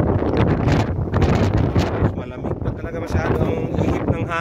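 Strong typhoon wind roars and buffets the microphone in loud, gusty surges, with a person speaking briefly over the rushing noise.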